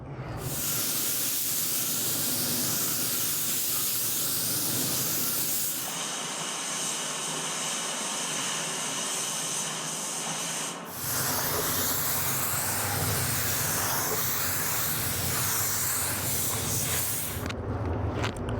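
A spray gun lays black base coat paint onto a classic Bronco body, giving a loud, steady hiss that runs almost unbroken, shifting tone briefly midway before resuming.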